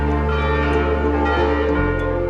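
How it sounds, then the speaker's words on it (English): The bells of the Church of the Annunciation in Nazareth ring in a loud, sustained, resonant peal, overlapping tones ringing on continuously without voices. "The bells of the Church of Annunciation."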